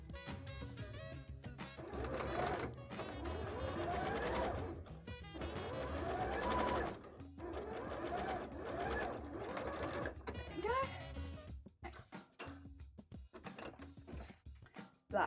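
Sewing machine straight-stitching elastic onto a bra, running in several fast rattling bursts separated by short pauses, close and steady.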